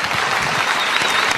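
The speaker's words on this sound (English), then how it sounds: "everyone a round of applause for Karl Grossman." A theater audience at a documentary screening event at Guild Hall applauds loudly, a steady close roar of many hands clapping throughout the short burst.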